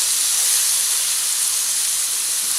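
Marsala wine poured into a hot pan of browning mushrooms sets off a loud, steady sizzle and hiss that continues without a break and without any voices.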